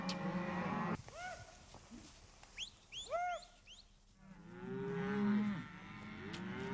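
Cattle moo repeatedly in overlapping calls, some near and loud, others farther off, with a low rumbling herd background, as cowboys on horseback drive the herd in the Rocky Mountains.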